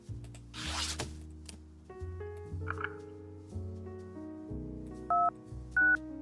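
A phone number is dialed in the video game The Ratline, a series of short tonal beeps stepping through under a low ambient music bed, with a brief rustle near the start.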